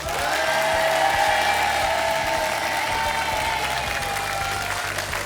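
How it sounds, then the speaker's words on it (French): TV game show studio audience applauding during a final, a steady, sustained crowd of clapping with music or tones beneath it and no voices. "On les applaudit."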